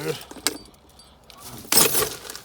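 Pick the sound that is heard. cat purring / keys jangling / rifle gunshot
keys jangling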